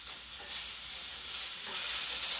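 Sausage sautéing and browning in bacon fat over medium heat gives a steady, close sizzle with soft swells of frying crackle and no talking.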